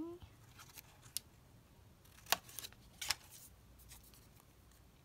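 Scissors snipping paper while making a handmade window envelope, a few quiet crisp cuts with two sharper snips standing out, faint and close at a crafting table.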